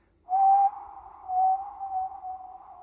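A breathy, airy whistling tone blown across a ney flute, sounding in three sustained notes with short dips between, close and fairly soft.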